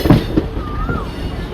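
The Veraval–Rajkot local train pulls into Chorvad Road station with rumbling wheels and a short, thin metallic squeal of brakes or wheels, heard briefly and close.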